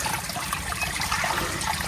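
Steady, dense rush of water pouring from a submersible water pump drawing from a spring on a duck farm, continuous and fairly close with no voices.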